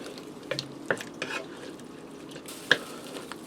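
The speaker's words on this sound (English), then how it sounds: "I'm going to add in some teriyaki sauce. I'm going to go for about a half a cup. Give that a stir." Shrimp stir fry with teriyaki sauce stirred in a pan over low heat, a few soft scrapes and clinks of a utensil with a faint sizzle underneath, sparse and brief.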